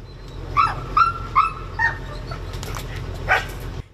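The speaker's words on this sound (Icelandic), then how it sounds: "Leitar hundar hafa aðstoðað við að finna fólki í rústunum" Search dogs at earthquake rubble give a run of four sharp barks and yelps, one after another, then a pause and one more bark, fairly close over a low rumbling background.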